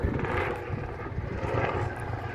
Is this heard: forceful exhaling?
no